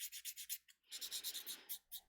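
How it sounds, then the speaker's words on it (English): A sanding stick with coarser grit rubs back and forth over a small terrain model piece for a Rohan scene, giving close, rhythmic scratchy strokes with a brief pause midway. "let's grab one of our sanding sticks. We got a little bit more grit on it here"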